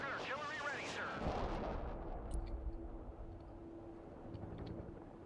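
HIMARS rocket artillery fires in the video game Broken Arrow: a rushing launch roar that settles into a deep, rolling rumble, with a low voice heard over it.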